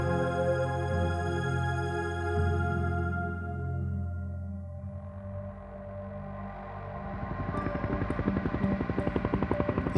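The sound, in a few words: rescue helicopter flying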